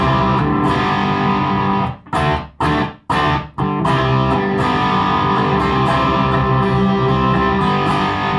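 An electric guitar played through a Tone City Model B overdrive pedal in vintage mode with boosted gain rings out in thick, sustained distorted chords, broken by a few short choppy muted stops before ringing on.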